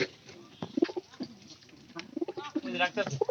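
Pigeons cooing in a loft where newly bought birds and chicks are kept, soft close repeated throaty coos in short bursts, with people talking nearby.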